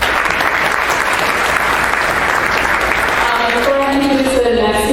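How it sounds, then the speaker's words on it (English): Conference audience applauds in a large hall, a dense, sustained wash of clapping that fades toward the end as a voice begins speaking. "Can we please give him another round of applause?"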